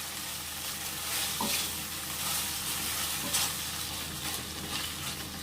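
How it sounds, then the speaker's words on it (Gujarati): Paneer with capsicum and green beans sautéing in a pan over a low flame, a steady close sizzle and fry hiss that runs throughout with soft stirring movement and no talk. "એક બે મિનિટ માટે સોતે કરશું."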